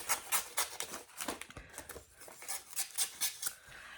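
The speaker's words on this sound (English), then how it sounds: "And then, let me go ahead and cut this out. And then I'll cut this part out." Scissors cut out an old Christmas card in a quiet room, a close series of crisp, rhythmic snipping strokes with a brief pause partway through.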